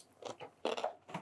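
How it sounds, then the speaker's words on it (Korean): Close, crisp crunching of fermented Korean pickled cucumber (oiji) being chewed, several irregular wet crunchy bites in quick succession, quiet with no talking. "오이지 씹히는 소리가. 아삭아삭."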